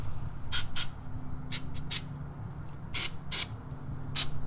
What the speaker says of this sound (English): rusty parts, penetrating oil.